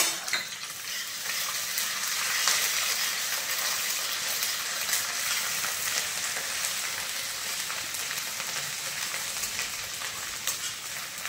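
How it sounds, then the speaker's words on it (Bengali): Chopped onion with crushed ginger and garlic frying in a pan, giving a steady, fairly loud sizzle with some stirring that continues throughout with no speech. "এবার দিয়ে দিলাম কুচিয়ে রাখা পেঁয়াজ, দিয়ে দিলাম থেতো করা আদা রসুন,"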